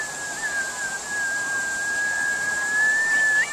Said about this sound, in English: The bird is whistling with me.